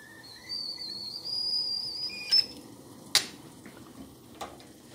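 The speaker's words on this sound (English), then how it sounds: "So my jug's just coming to the boil." A glass vase of hot water set to boil as a kettle, giving a thin, steady high whistle that rises for a couple of seconds and then fades, with a few sharp clicks and pops afterward, heard alone.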